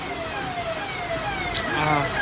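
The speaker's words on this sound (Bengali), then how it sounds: "অ্যাম্বুলেন্স যাচ্ছে আমাদের" An ambulance siren wails past on a wet road under cloudy, rainy weather, its rising and falling tones sliding in pitch over a background hum, with a voice briefly heard nearby.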